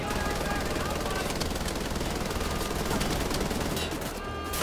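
Sustained machine-gun fire rattles nonstop in the video game Wolfenstein: The Old Blood, a dense, loud, rapid stream of shots that eases only briefly near the end.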